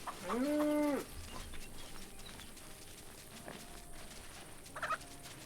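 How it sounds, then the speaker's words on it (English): A farm-animal call in the Force of Nature 2 survival game, with a loud drawn-out bleat or gobble at the start and a short second call near the end over quiet ambient background. "There's a cow, there's a sheep, there's a chicken."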